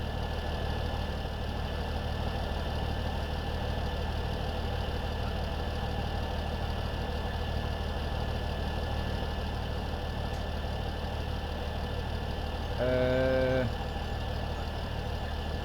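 Tractor engine idling in the video game Farming Simulator 2017, a steady, even drone with a low rhythmic pulse, joined late by a brief rising tonal whine.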